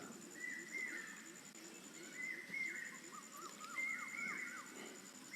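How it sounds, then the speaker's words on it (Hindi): Birds chirping outdoors during a quiet meditation, thin high calls repeating every second or two at moderate distance over soft background ambience, no talking. "ये पक्षियों की चहचहाट"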